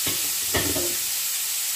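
Steady, close sizzling of food frying in a pan for spaghetti carbonara, with a couple of soft clinks near the start.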